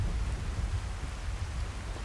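Steady rain with low rumbling thunder in the fantasy game Skyrim, a dense continuous wash of rainfall over a deep rolling undertone, no voices.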